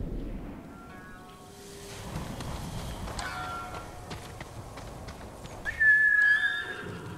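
A horse whinnies loudly in Ghost of Tsushima, a sharp high neigh rising out of a bed of ambient game sound and light hoof movement.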